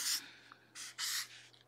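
A felt-tip marker drawing on paper, a few short quiet squeaky strokes with small gaps between them, heard alone and close up.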